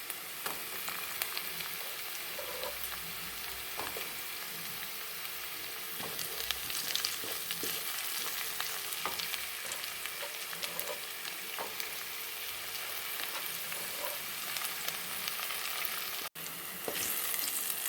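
Tomato frying with onion in a pan for dal khichdi gives a soft, steady sizzle with scattered light stirring and scraping sounds, fairly quiet and close, with no talking throughout.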